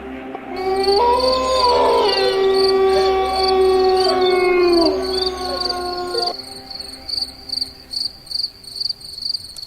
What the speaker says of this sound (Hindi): झींगुरों की आवाज आ रही है।